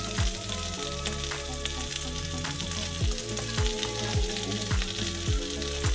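Bacon frying in a pan gives a dense, steady sizzle with crackling pops, heard up close and without voices. Faint tonal hum and repeated low descending sweeps sit underneath throughout.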